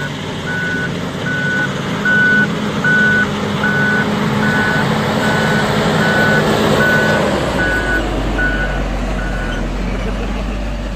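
A backhoe loader working at a mine gives off steady, evenly spaced reversing beeps over a loud, continuous diesel engine drone, with a deeper rumble building toward the end.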